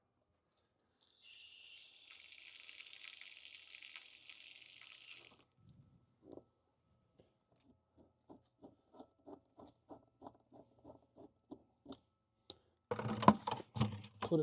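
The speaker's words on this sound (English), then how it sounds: "We're going to run some fresh water through it." Fresh water from a garden hose runs into a bucket while a tankless water heater is flushed, a soft steady hiss for a few seconds, followed by scattered small knocks and clicks and a louder clatter at the end.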